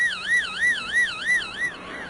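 An electronic tone stands in for a delta brainwave signal of about 3 to 4 hertz during an epileptic seizure. Its pitch warbles smoothly up and down about three times per second, steady and alone with no voices.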